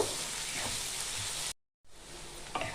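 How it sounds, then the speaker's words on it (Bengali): Onions sizzle and crackle steadily in a hot pan, breaking off briefly before the frying hiss resumes, slightly quieter. "এটা একটু লাল করে আমি ভেজে নেব।"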